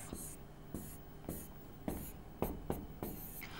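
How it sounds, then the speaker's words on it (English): Pen scratching brackets onto paper or a board in quick rhythmic strokes, about eight short scrapes close to the microphone over a faint background hum. "Now let's write our two brackets"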